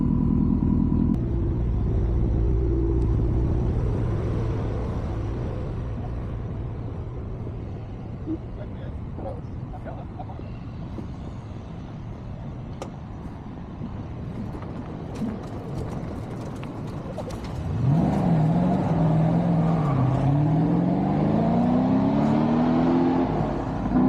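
A V8-engined car leaves the start line at a hill climb in West Virginia. An idling rumble gives way to a rising, revving engine note that climbs and falls as the car pulls away, with people talking over parts of it.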